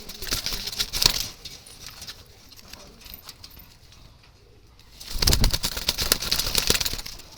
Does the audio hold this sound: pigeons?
yes